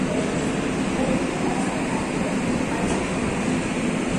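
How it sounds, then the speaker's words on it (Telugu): The Visakhapatnam–LTT Mumbai express (18519) sits at Secunderabad Junction at midday with a constant, even rumble and hiss, a dense broadband drone of the train and station that holds steady throughout with no voices. "విశాఖపట్నం నుంచి వచ్చి ఎల్టీటీ మనకి ఇప్పుడు ముంబై వెళ్తుంది అన్నమాట."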